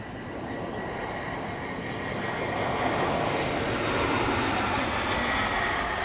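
An airliner arriving at Amsterdam Schiphol Airport makes a broad engine roar that swells gradually as it nears, loud and continuous, with no talking.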